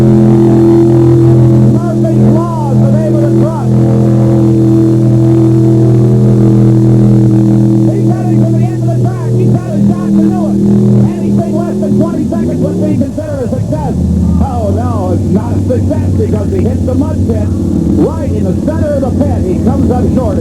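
A mud bogging truck named Murphy's Law at the 1989 Bloomsburg 4 Wheel Jamboree Summer Nationals drones with a loud, sustained engine roar that shifts pitch partway through as the tires spin in mud, with an announcer talking over it.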